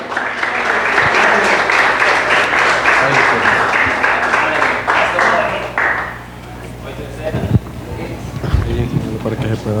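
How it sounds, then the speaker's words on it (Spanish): Audience applause for a tournament-winning team at a church gathering: dense, loud clapping fills the first six seconds, then thins out and fades as voices talk over the remaining scattered claps. "les damos un aplauso"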